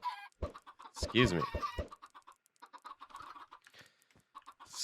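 Chickens cluck in a Minecraft pen holding a flock of about twenty birds, short clucks and squawks scattered through the clip, with someone talking briefly among them.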